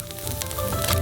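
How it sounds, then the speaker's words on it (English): Sliced carrots sizzle briefly in a hot frying pan, a steady crackling hiss that swells slightly toward the end, with no talking. "And we send them into the frying pan."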